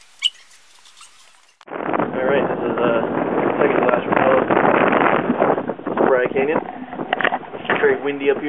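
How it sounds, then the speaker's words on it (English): Loud, steady wind rumble buffets the microphone after a brief quiet start at Zion, with a voice talking through the noise. "Windy up here."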